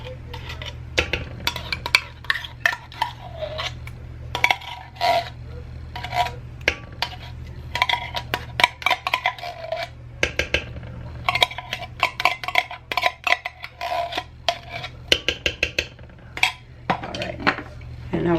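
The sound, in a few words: mixing Parmesan and cheddar cheese in a bowl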